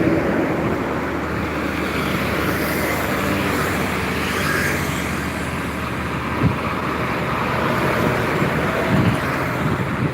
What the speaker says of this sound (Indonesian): Truk, ada satu unit truk.